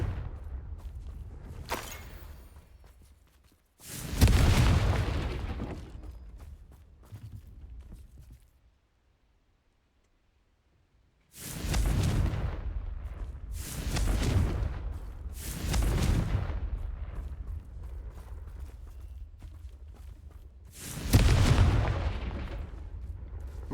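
Confringo fire-spell explosions in the video game Hogwarts Legacy, several heavy booming blasts spaced a few seconds apart, each with a rumbling decay, loud and close.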